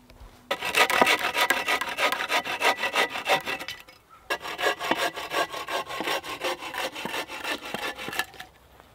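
A handsaw cuts through wood for the side pieces of a simple bed, with steady back-and-forth rasping strokes that pause briefly and then resume, close and loud.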